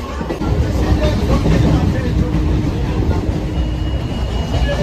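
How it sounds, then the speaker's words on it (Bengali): A train pulls into a busy railway station with a loud, steady low rumble and rolling clatter, while a crowd murmurs and people talk nearby. "ট্রেন চলে এসছে।"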